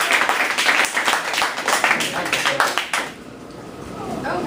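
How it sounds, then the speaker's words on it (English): An audience's round of applause at a science lecture on cancer mechanisms: dense, steady clapping for about three seconds, then tapering off into a quieter room. "let's give a round of applause."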